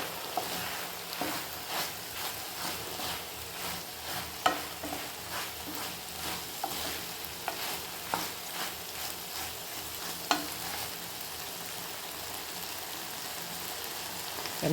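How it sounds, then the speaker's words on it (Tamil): Okra, or ladies finger, sautés in a pan for vendakkai pachadi. A continuous close sizzle carries soft crackles and occasional sharp stirring taps, with no voices. "வெண்டைக்காய் வதங்கி வந்துட்டுருக்கு"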